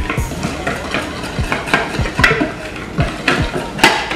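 A whisk beats pancake batter in a bowl with a quick, uneven run of clinks and scrapes, loud and close.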